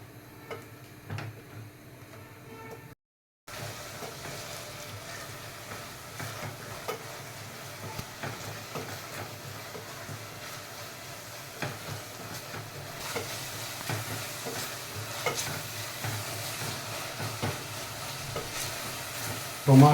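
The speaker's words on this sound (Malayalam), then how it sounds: "നല്ലോണം തിളക്കട്ടെ. തിളച്ചതിൽ മിക്സ് ആവട്ടെ." Tomato paste bubbles and simmers in a pan for a home-made kingfish curry, a soft, continuous sizzle broken by a spoon scraping and stirring at a close, even pace.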